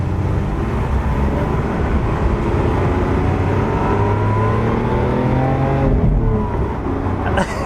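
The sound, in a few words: Lamborghini Aventador SV V12 engine rumbling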